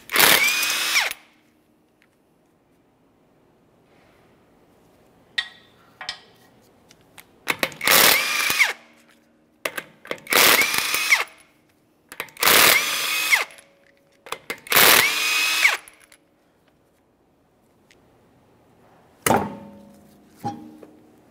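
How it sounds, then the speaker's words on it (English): Impact gun bursts loosening the five wheel lug nuts on a 2015-2019 Subaru Outback, several loud separate whirring bursts spaced a few seconds apart, with quiet handling clatter between them. "Now let's remove all five of these lug nuts."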